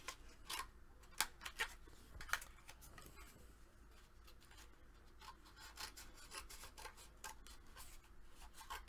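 Scissors snip and trim paper for a chipboard mini album, a series of soft, irregular crisp cuts and rustles, close and quiet with no talking.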